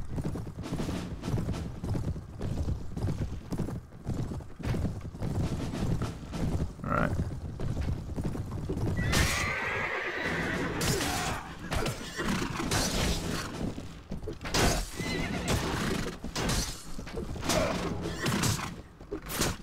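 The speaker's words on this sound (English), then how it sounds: "Move, you stupid horse!" A horse in the Mount & Blade video game during a battle charge: rapid clip-clopping hoofbeats run throughout, with a loud neigh in the middle and combat sounds mixed in.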